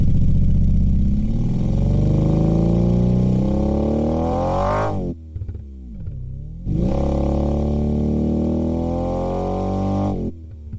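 An algorithmically synthesized combustion engine drones steadily and close, its pitch rising smoothly to a peak before cutting off, then starting again and building up a second time, with no talking.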